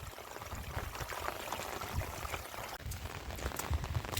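Heavy rain pours over a flooded rice field, a steady dense wash of falling water with splashes and patters close by, loud and continuous without talk.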